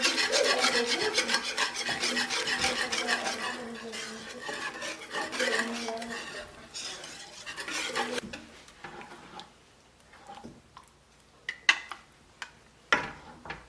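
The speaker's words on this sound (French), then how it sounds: "Je veux venir prendre un fouet et puis rajouter et mélanger au fur et à mesure." Whisk scraping and stirring in a pot of Guinean dried okra sauce off the heat, a busy metallic rasp at first that thins into scattered clinks and taps, close and loud.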